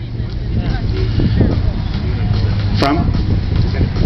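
A 1966 Hillman Super Minx, the square-bodied vintage car with white wall tyres, rolls by in a vintage rally parade, giving a steady low engine drone beneath a continuous murmur of crowd noise.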